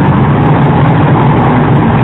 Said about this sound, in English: You hear the engine pump up quite a bit as we're passing about 90.